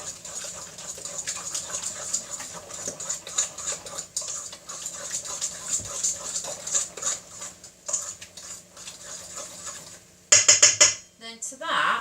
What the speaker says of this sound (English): So I'm going to whisk that in there